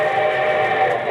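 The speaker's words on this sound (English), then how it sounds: "And here comes the summer show train." A steam-style train whistle rings out as a radio show sound effect, a short sustained tonal blast held steady for about a second.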